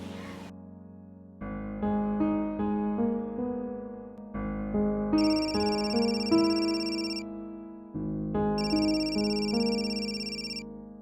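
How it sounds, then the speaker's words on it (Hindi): A phone rings with a melodic electronic ringtone, its bright tune repeating in several loud, steady phrases separated by short gaps, with no one talking over it. "तो मेरा फोन क्यों नहीं उठा रहे हो?"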